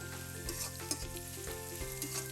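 Shrimp and taro flower fry in a hot pan with a steady close sizzle, broken by several soft scrapes and clinks of a spoon stirring through the mixture, no voices present.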